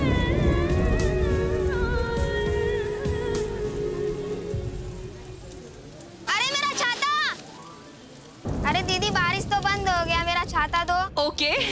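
Steady rain pours down during an outdoor scene in a Hindi TV drama, a dense wash of hiss over the first half, then giving way to music and voices.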